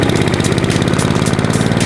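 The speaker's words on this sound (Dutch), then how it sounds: "Naar de grasmaaier." A lawn mower engine runs close and loud with a steady, chugging mechanical rumble while grass is cut on an island, with no voices.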